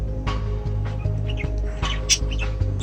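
Pet birds chirping in a home bird room with cages, a scatter of short bright tweets and calls over a steady low hum, fairly close and without talk.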